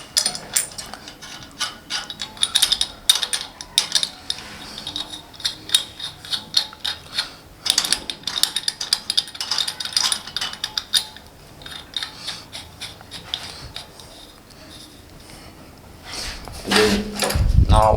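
A wrench tightens the nuts on a plumbing fixture during installation, giving bursts of close metallic clicking and ratcheting in irregular runs, quieter in the middle stretch and louder again at the end. No voices.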